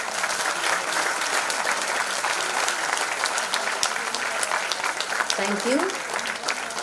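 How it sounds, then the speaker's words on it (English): A convocation audience bursts into sustained applause, a dense, even wash of many hands clapping throughout, with a brief spoken voice over the clapping near the end. "let us give them a big hand of applause"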